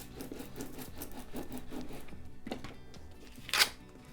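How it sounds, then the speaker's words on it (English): Transfer tape is scraped firmly over vinyl lettering for a chalkboard craft, a close, rhythmic rubbing in repeated strokes ending in one sharper scrape. "Give it a good scrape over so it sticks to the transfer tape."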